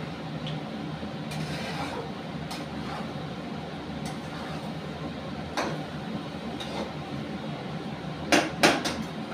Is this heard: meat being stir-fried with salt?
yes